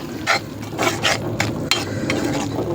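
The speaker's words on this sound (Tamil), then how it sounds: "பெருசாக இருக்க தக்காளியை இப்படி கொத்தி விட்டிங்கன்னா" A spatula chops and mashes tomatoes in a pan of Madras chicken gravy: a run of sharp, close scraping jabs at a quick irregular pace over a soft background sizzle.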